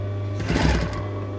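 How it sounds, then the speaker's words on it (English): A sewing machine runs a short burst of stitching along a baby doll dress seam, a close, rapid mechanical whirr over a steady motor hum. "Pop it under the machine, and about 2 or 3 mil in from the edge, you want a little line stitching."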